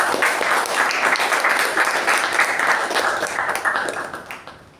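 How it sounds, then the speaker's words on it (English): A crowd applauds steadily with dense clapping for several seconds at a Toastmasters meeting, then the applause fades out near the end. "Let's give her a huge round of applause."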